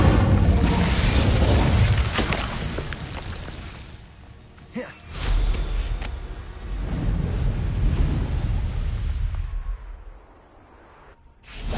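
In Hogwarts Legacy, the Incendio fire spell goes off in heavy booming blasts with a rushing whoosh, loud and near, then settles into a lower rumble before dropping away.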